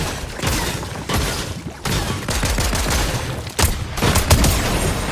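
Gunfire in the Fortnite video game comes as dense, rapid volleys of loud, close shots, with brief gaps between bursts and no voices over them.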